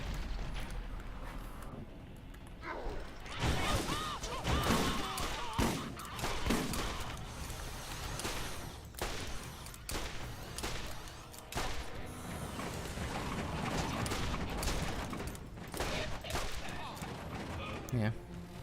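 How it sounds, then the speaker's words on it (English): Robot double turrets fire in the game Borderlands, rapid bursts of gunfire and booming impacts going on almost throughout, loud and dense, with a voice talking now and then over the shooting. "These robots are all doing the Ed 209 shit where they're just shooting me at the double turrets"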